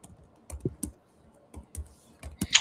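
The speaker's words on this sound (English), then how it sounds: "Can you read what I'm typing?" Typing on a computer keyboard, a few scattered clicks and short bursts of keystrokes close up, with pauses between them in a quiet room.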